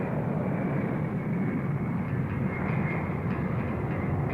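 Airplane engine droning steadily as the plane taxis and lifts off, a loud continuous roar with a broad rumbling hum, close and constant throughout with no talking.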